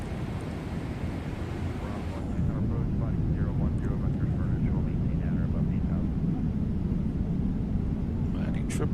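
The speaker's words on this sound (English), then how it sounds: "Landing 777." Cabin of a Boeing 777 airliner on landing, a loud continuous low roar of engines and airflow that swells after a couple of seconds, with muffled voices beneath.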